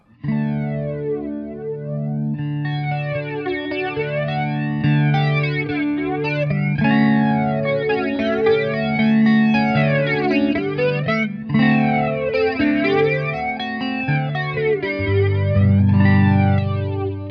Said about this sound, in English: What about flanger?